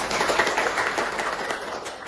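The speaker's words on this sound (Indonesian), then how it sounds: "mari kita beri tepuk tangan" Dense applause from a group, a steady wash of clapping with no voices.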